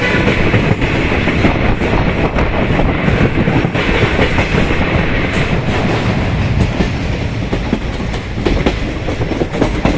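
The Kanchankanya Express rolls along the rails, its wheels keeping up a loud, continuous clatter with a rhythmic clickety-clack close by, and nobody speaks.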